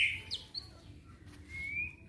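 A few sharp chirps and a rising whistled call from a white-rumped shama, quiet and fairly close, with gaps of near silence between them.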